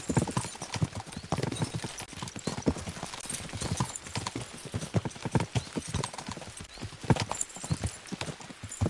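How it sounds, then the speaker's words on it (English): Horses galloping in Kingdom Come: Deliverance 2, a rapid continuous drumming of hooves at close range, steady and loud for the whole stretch, with a faint whinny and no speech. "We should spur the horses on"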